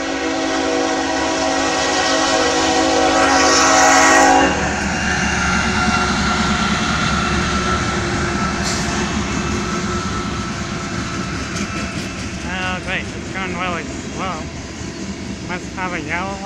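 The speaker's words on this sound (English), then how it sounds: "a green train, a freight train." A train horn blares for several seconds, then a freight train rumbles and clatters steadily past nearby, with a person talking over it toward the end.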